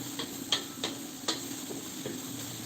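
Onion and garlic sizzle together in a pan, a soft steady frying hiss under several light, evenly spaced clicks of a utensil stirring, fairly quiet and close.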